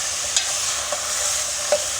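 Sliced okra sizzles steadily with onion in a hot pan for bhindi gosht, a continuous bright frying hiss broken by a few soft stirring taps, close and with no voices.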